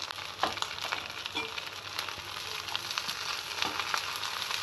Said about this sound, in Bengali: এই যে পটল ভাজিটা হয়ে আসছে আমি এখন এই পেঁয়াজটা দিয়ে দিচ্ছি